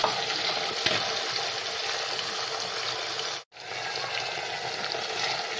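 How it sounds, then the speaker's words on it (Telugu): Green chilies and curry leaves sizzle and fry steadily in hot oil in a pan, a dense, continuous crackle with a brief drop-out midway, no talking over it. "ఇది కొద్దిగా వేగగానే ఇందులో నాలుగు పచ్చిమిర్చీలు రెండు కరివేపాకు రెబ్బలండి"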